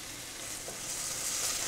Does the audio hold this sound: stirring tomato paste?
yes